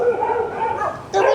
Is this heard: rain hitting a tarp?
no